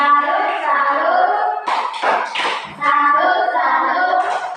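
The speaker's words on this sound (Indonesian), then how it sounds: "Tepuk salut untuk Eri." A group of young pupils in a primary classroom claps out a tepuk salut cheer, a short cluster of crisp hand claps set between sung chanting voices, near and clear.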